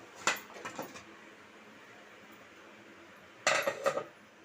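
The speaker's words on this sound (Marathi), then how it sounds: "आता इथे पूर्ण वाफ गेलेली आहे तेव्हा झाकण काढूया" A metal lid comes off a steamer pot after dhokla made from chana dal flour has steamed. There are two short clusters of clanks and rattles separated by a quiet pause, close and fairly soft.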